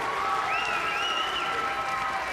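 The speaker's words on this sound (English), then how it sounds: "Even Oscar's got to applaud this" A crowd applauds strikes at a 2008 tenpin bowling doubles match: continuous, even clapping over a few seconds, with a faint thin tone running above the applause.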